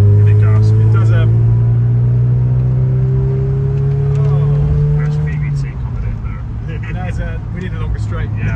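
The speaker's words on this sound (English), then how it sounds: "It's a nice, revvy little engine." Mazda MX5 mk2.5 engine revving hard on a wet road, a loud rising drone that climbs steadily for about five seconds, then eases off as the car settles, with people talking over it inside the cabin.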